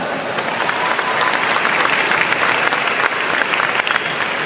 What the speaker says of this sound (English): So a round of applause to yourselves.